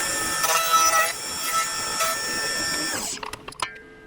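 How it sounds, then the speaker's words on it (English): A power tool cuts the dome off a threaded injector bung with a steady, high metallic whine. The whine winds down after about three seconds, followed by a few scattered clanks and taps of the metal part. "We just want to cut that dome off to like the first thread is what we really want."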